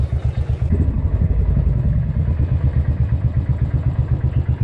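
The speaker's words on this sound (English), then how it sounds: "this is the first motorcycle I am riding today, Royal Enfield Classic 500" A Royal Enfield Classic 500 motorcycle idles close by, its steady single-cylinder thump loud and continuous with a slightly clattery mechanical texture and no talking.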